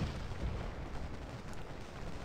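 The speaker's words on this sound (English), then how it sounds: "they can't stand the artillery and musket fire" Continuous low rumble of artillery and musket fire on a Gettysburg battlefield in Scourge of War, a dense, steady roar with no distinct separate shots, at moderate level and with no talking.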